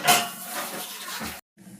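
A pot of boiled moong dal being lifted off a kitchen stove, with a loud metallic clatter and scraping of the pot for over a second, a brief pause, then softer clinks.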